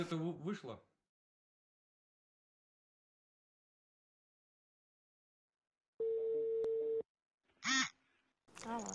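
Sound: telephone dial tone while calling

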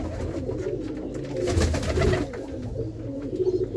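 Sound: pigeons cooing

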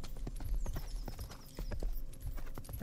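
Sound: horse hooves clip-clopping in a medieval GTA video game

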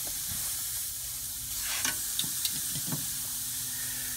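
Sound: chicken breasts sizzling on Big Green Egg grill

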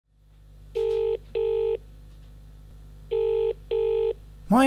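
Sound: telephone number being dialed

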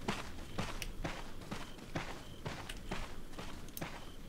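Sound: footsteps in the video game Resident Evil 4

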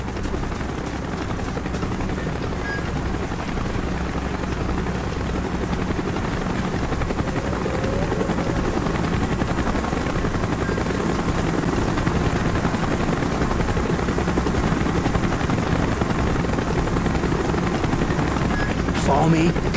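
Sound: helicopter approaching in Call of Duty: Black Ops video game

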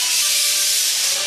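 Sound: rice cooking on the stove, steam hissing in the kitchen

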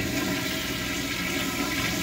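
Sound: slow flush of a corner toilet, American Standard

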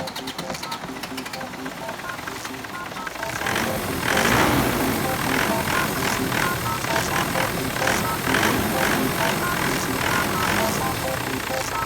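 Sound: car engine idling

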